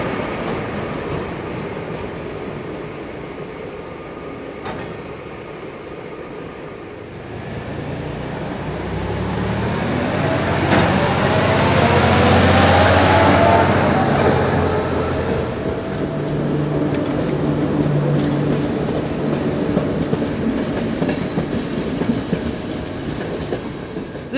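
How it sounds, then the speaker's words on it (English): French electric locomotive 22325 hauls an overnight Lourdes-to-Rome passenger train round a curve, approaching from a distance, rumbling loudest mid-pass with rhythmic wheel clatter and faint squeal, then fading as the carriages roll by. "French Electric number 22325 rounds the curve with an overnight service from Lourdes to Roma"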